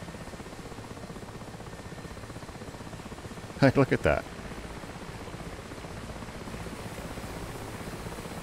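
Steady low rotor and turbine drone of a Mi-8 helicopter in the DCS flight simulator runs throughout, with a brief burst of louder clattering midway and someone speaking briefly over it.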